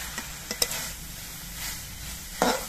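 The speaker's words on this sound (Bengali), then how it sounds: "এই খোসাগুলো ভাজা হওয়ার সময় আমি এর মধ্যে কিছু পোস্ত দিয়ে দিচ্ছি" Bottle gourd peels with poppy seeds added fry in oil, a soft continuous sizzle broken by a few sharp clinks and scrapes of a spatula against the pan.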